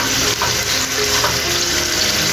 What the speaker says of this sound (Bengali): এখন এই তো মুরগির মাংসগুলো ভেজে নেব।